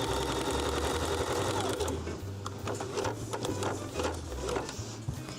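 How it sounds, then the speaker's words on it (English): A sewing machine running a zigzag stitch, a close continuous whirring with rapid rhythmic clicking of the needle, steady and unbroken with no talk. "I'll change this over to a zigzag stitch for a second to get this on here."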